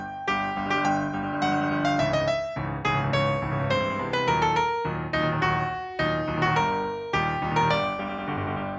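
Orchestral excerpt from the Star Wars Imperial March: a full ensemble plays rhythmic, accented brass and string phrases over low sustained harmony, loud and dense, building steadily with strong attacks at regular intervals.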